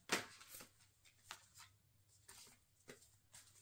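Cards riffle and flutter in several quick bursts, close and fairly soft, with short pauses between shuffles.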